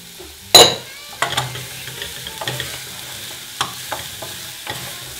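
Onions, mango and chilies hit a hot pan with a sharp sizzle, then fry steadily while a utensil scrapes and stirs in repeated close knocks over the crackle.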